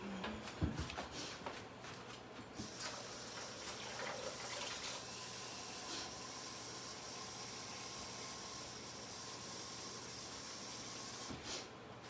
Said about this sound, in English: And then I'm just going to add some water.